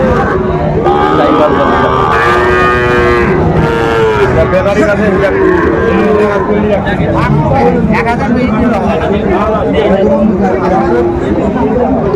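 Sahiwal cattle and bulls at a livestock market in Bogura, Bangladesh, low drawn-out moos repeating near and loud over a steady crowd babble with people talking throughout.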